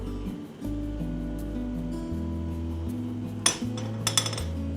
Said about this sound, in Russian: Мы сюда выливаем теперь наш крахмал и помешиваем.